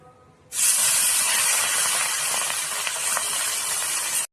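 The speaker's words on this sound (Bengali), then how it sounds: "মাছগুলো ভেজে নেব" Fish rubbed with salt and turmeric hitting hot oil, a loud sudden sizzle that bursts in after a quiet moment and holds as a steady broad hiss with faint crackles until it cuts off.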